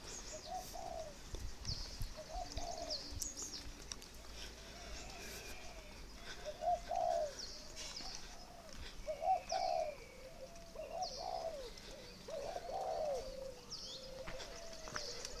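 Spotted doves in northern Vietnam cooing repeatedly, soft rhythmic calls from several birds at moderate distance, with faint chirps and quiet background noise.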